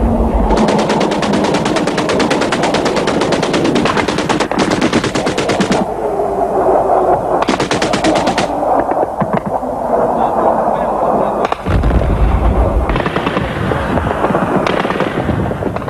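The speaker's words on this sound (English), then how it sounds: "The sequence of bombs, then anti-missile flares, was by now routine." Airstrikes in Afghanistan during the Soviet war of 1979 to 1989, with relentless loud, dense crackling blasts and popping bursts from bombs and anti-missile flares that continue without pause.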